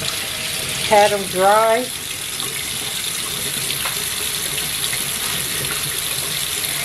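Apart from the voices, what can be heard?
water running from kitchen tap, rinsing meat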